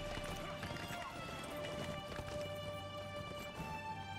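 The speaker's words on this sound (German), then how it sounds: "Reitet mit Grimbold zusammen die Straße entlang" Horse hooves clip-clop in a steady, rhythmic trot along a road in the video game Lord of the Rings Online, moderately loud and close, with background music and a faint voice underneath.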